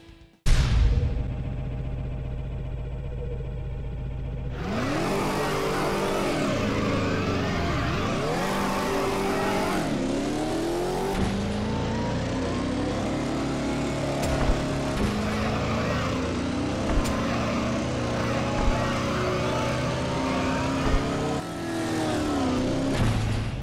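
A game car engine in GRIP: Combat Racing roars steadily through a parkour challenge, its pitch rising and falling as it revs and accelerates, loud and continuous throughout, with someone talking over it.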